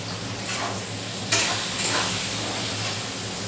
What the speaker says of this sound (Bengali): কষা কষা করে এই যে পেঁয়াজটা দিয়ে দিলাম আমরা তেলের মধ্যে